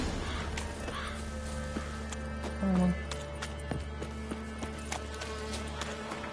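Galloping horse hooves in The Witcher 3 on PlayStation 5, a steady quick clip-clop rhythm beating under a continuous low game soundtrack drone, with one brief louder tone partway through.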